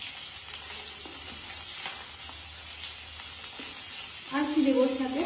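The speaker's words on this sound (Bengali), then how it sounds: "আর হালকা একটুখানি নাড়িয়ে এটাকে ভেজে নাও" Food fries in hot oil with a constant, close sizzle, stirred now and then, and the hiss swells louder toward the end as the pieces are turned; no talking.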